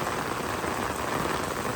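Heavy monsoon rain pours steadily and loudly at a farm with Kankrej cows, a dense, unbroken hiss of drops on surfaces with no voices.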